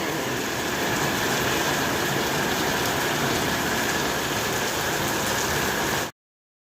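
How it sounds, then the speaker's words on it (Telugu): Heavy rain pours down in a dense, steady roar, loud and continuous across the whole stretch before cutting off abruptly. No voices are heard. "ఫుల్లుగా వాన పడుతుంది"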